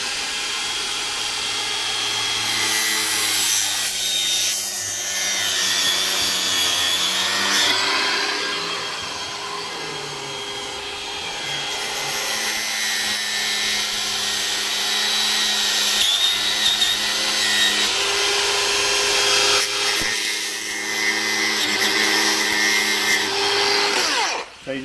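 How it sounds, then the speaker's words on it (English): An angle grinder cuts through a braided AN10 oil line during an RB25-powered S15 build, a loud, continuous whine lasting the whole stretch, its pitch dipping and rising as the disc bites and eases off. "you can just carefully cut through it with a grinder"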